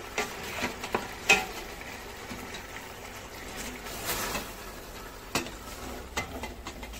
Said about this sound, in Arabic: غنزيد البصله مشلضه مزيان نخليه يزيد يتقلى